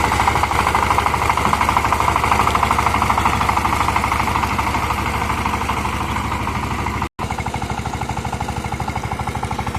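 A Saifeng 25 hp tractor engine running while plowing a field with a 28-tine plow: a loud, close, steady diesel chug with rapid rhythmic knocking that continues throughout, interrupted by a brief cut near seven seconds before resuming, with no voices.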